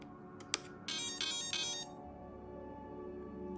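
A Hobby Plus/Furitek 2024 T Hunter RC truck's ESC powers up with a couple of short clicks followed by a bright sequence of electronic beeping startup tones, then a quiet low hum, close and clean with no talking.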